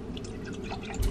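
Oat milk pours into a cup of coffee in a short, close liquid trickle that swells into a fuller splash near the end.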